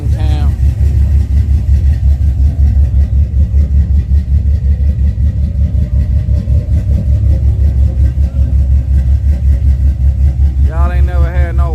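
A car with a lumpy cam idles loud and close, a steady uneven chugging lope that rocks in a rhythm like an unbalanced washing machine, with a voice breaking in briefly at the start and end.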